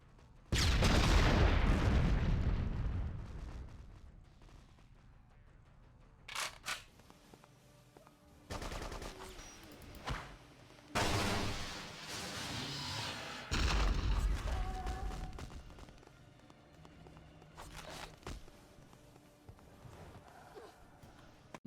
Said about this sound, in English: Exploding bat.